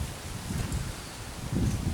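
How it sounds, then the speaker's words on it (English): Wind blowing outdoors on a mild, shady afternoon, soft gusts rustling and buffeting the microphone in two low swells, fairly faint with no voices. "It's fairly windy out here"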